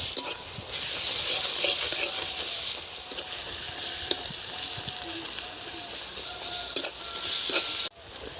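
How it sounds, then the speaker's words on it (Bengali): Garlic paste sizzles in a frying pan of onions for a village-style duck curry: a loud, continuous close hiss with occasional stirring clicks, cutting off abruptly near the end. "রসুন বাটা দিয়ে দিচ্ছি।"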